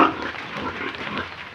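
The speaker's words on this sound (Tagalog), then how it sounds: "Ito yung inahing baboy mga busing na sinabi ko sa inyo na hindi kumain." A sow on a farm grunts steadily and close up, with low rough snorts running continuously through the short stretch and no talking.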